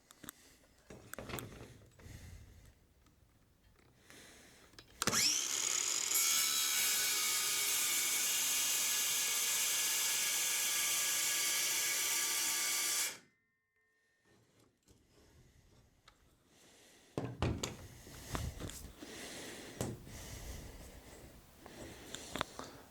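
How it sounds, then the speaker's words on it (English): A harsh, continuous buzzing hacksaw cuts through plexiglass for about eight seconds, loud and close, with quieter handling clatter before and after. "Let's have a go, see how it cuts this plexiglass."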